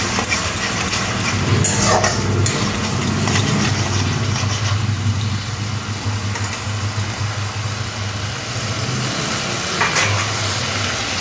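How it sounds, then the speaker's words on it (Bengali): A homemade spice paste sizzles steadily in a pan as it is cooked down for a Bengali banana-flower dish. It gives a constant, fairly loud frying hiss with faint scraping of stirring and no voices. "এই মশলাটাকে একটু কষে নিতে হবে।"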